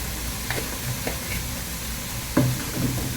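Paprika being stirred into minced meat sizzling in a pan over lowered heat, a steady close frying hiss with a few light scraping stirs, no voices.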